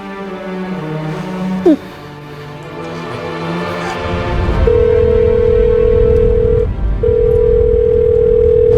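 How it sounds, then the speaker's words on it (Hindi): An unanswered phone call in a crime drama produces a steady ringback tone that repeats in two long, loud bursts with a brief gap between them, following a stretch of background music and voices. "रिंग जा रही है पर विवेक फोन नहीं उठा रहा है"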